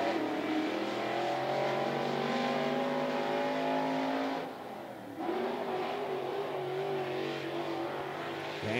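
A NeSmith late model race car at 411 Motor Speedway in Tennessee roars through a qualifying lap, its engine note revving steadily, dipping briefly as it passes or turns, then climbing again, heard from a distance.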